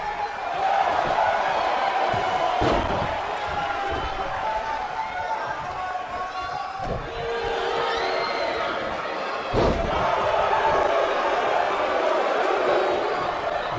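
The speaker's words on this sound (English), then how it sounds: "getting slammed there" A wrestler body slammed onto the ring mat at a BCW event, with loud thuds landing over steady crowd noise, cheering and chatter, and commentary running beneath.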